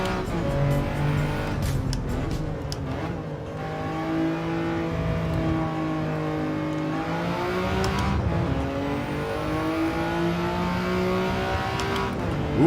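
Toyota Yaris race car in Gran Turismo 7 on the Bathurst circuit, its engine droning steadily then rising and falling in pitch through gear changes and revs, sustained and fairly loud from start to end.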